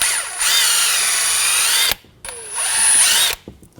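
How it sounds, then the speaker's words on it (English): Wire brush scrubbing the caliper pin bores on the front brake of a 2006-2010 BMW 550i, two loud sustained bursts of harsh grinding with a short pause between them. "I'm just taking a wire brush, just clean out where the brake caliper pins go"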